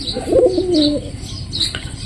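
A pigeon coos close by in a low, throaty warble, with faint chirps and a soft flutter around it.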